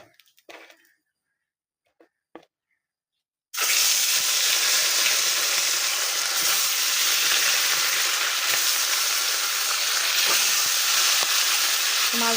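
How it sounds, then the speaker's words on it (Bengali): Rohu fish pieces dropped into hot oil in a pan break into a sudden, loud, steady sizzle after a few seconds of near silence with small clinks, and the frying hisses on without pause. "তো এখন মাছগুলো আমি ছেড়ে দেব তেলের মধ্যে।"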